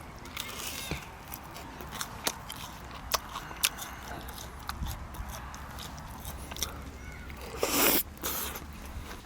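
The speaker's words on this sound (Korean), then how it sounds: "빵하고 곁들여 먹으려는데 빵을 좀 담궈가지고 좀 적셔가지고 먹어봐야 되겠다." Someone camping eats bread dipped and soaked in homemade stew, giving soft close-up chewing and biting with a few sharper clicks, and a brief louder rustle near the end.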